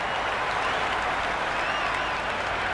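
A large cricket crowd applauds throughout at the final of a T20 World Cup match between India and New Zealand, a steady, dense wash of clapping with no breaks.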